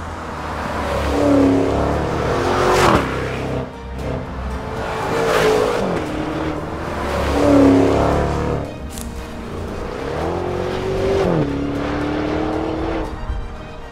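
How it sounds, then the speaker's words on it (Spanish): A Maserati Levante Trofeo with dual carbon-fibre exhaust outlets on each side gives off repeated loud revving surges and throttle blips, several rising and falling pulls with no talk. "lo que más me gusta son las dobles salidas de escape en cada lado, muy elegantes y que suenan de maravilla"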